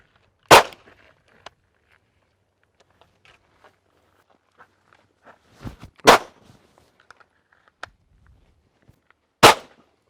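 Handgun shots ring out at a live fire practice range, three sharp loud cracks spaced a few seconds apart, with faint clicks, shuffling and movement between them.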